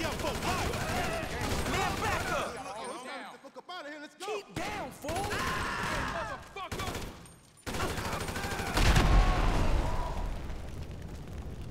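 AK rifle gunfire in the video game GTA V, with loud bursts and explosive booms mixed with game dialogue and shouting voices, continuing most of the time.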